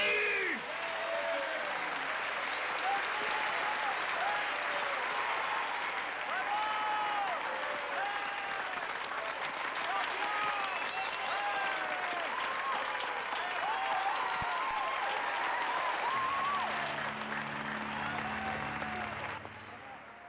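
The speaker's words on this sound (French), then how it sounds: "On peut l'applaudir bien fort." A crowd at the U.S. karate championships applauds the winner, a long, dense, sustained ovation with crowd voices mixed in, steady and loud before dropping off near the end.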